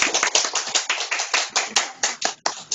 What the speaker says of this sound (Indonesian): dan tepuk tangan untuk Del Education.